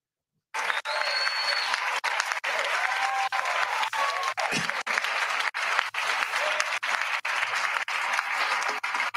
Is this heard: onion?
no